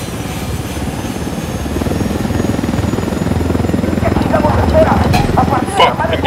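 A helicopter in the video game Ghost Recon Wildlands keeps up a loud, steady rotor chop and engine drone, with a voice talking over it.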